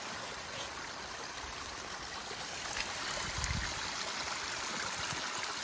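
A mountain stream runs near Manali and Rohtang in snowy Himachal Pradesh with a steady, broad rushing hiss and a slight gurgle that swells a little midway. It is continuous and moderately loud, with no voices.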